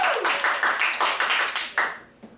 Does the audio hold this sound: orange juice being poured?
no